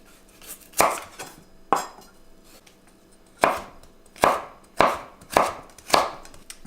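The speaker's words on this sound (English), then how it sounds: "we want about a half cup of carrots, which we're going to slice thinly" A knife slicing carrots thinly into julienne strips on a cutting board, with seven or eight sharp, distinct chopping thuds at an uneven pace, close and clear with quiet gaps between.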